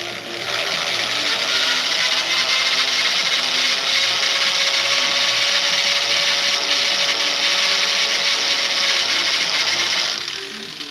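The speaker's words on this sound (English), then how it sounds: "Start off with a little tiny drill bit and see what happens." A steady, grinding small drill bit bores into soft metal, a continuous high whine with a faint tone running through it, loud and close for about ten seconds before stopping.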